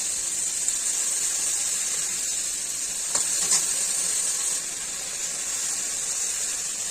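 Spice mix dropped into a pan of drumstick (sajne data) vegetables, giving a steady close sizzling hiss throughout with a brief louder burst near the middle.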